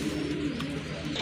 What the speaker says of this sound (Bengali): খুব সুন্দর এক জোড়া কালদম কবুতর